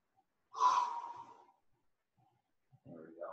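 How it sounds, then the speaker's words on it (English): A single deep, audible breath, a sharp inhale swelling into a long exhale that fades, followed by a quieter breath starting at the end, close and alone without talk. "Breathing in through the nose"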